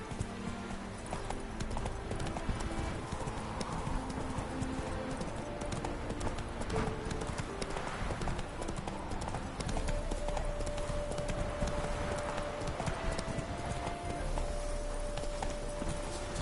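Roach, Geralt's horse in The Witcher game, clip-clops at a steady walking pace throughout, hoofbeats moderately close under a low ambient bed and faint music.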